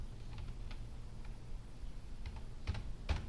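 Soft, scattered keyboard clicks tap away faintly against a quiet background hum, a few keystrokes landing a bit louder near the end.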